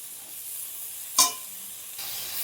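Eggplant sautés in a pan with a soft, steady sizzle, broken by one sharp hiss and clatter as it is stirred, close and without speech.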